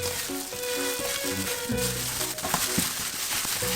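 Hamburger steak patties for homemade hambagu sizzle and fry steadily in a pan, a dense continuous crackle with brief pops, close and fairly loud, alone without talk.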